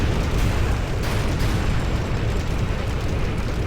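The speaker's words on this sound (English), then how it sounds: "And we've got some rocket barrages going on the opposite side." Rocket barrage explosions in the strategy game Rise of the Reds make a continuous, loud, rumbling roar of overlapping blasts with a few sharper bursts throughout.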